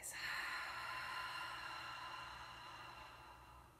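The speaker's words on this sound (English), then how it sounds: "Audible exhale, ocean-like noise." A single long, breathy exhale through the mouth during yoga breath work, close and soft, fading gradually like a gentle ocean hiss.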